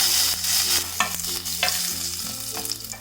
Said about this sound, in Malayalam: ഇതിലേക്ക് ഞാൻ കുറച്ച് കടുകിട്ട് പൊട്ടിച്ചു കൊടുക്കാണ്